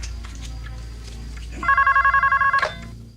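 A telephone rings in a film scene, a single burst of rapid electronic trilling lasting about a second over a low, steady background rumble.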